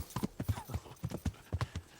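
Quick hollow clip-clop of horse hooves at a trotting rhythm in the video game Kingdom Come: Deliverance, soft and steady, with no talking.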